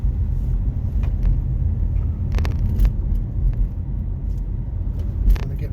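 A car engine hums and rumbles steadily from inside the cabin while climbing a hill, with occasional light clicks and rattles over the continuous road noise.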